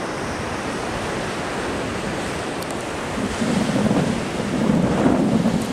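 Ocean surf and wind at Myrtle Beach outside a resort on North Ocean Drive, a steady roar of waves with gusty microphone buffeting that swells louder toward the end.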